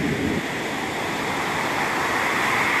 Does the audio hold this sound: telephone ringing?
no